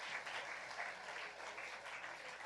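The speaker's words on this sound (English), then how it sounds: "Could you give a warm round of applause for our next panel as they make their way to the stage?" A conference audience gives a steady, even round of applause as a panel on future security threats walks to the stage, dense clapping heard from some distance throughout.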